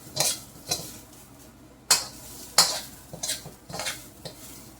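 Rice toasting dry in a pan for chicken fried rice, with soft sizzling under sharp intermittent scrapes and clinks of a utensil stirring against the pan, close and alone.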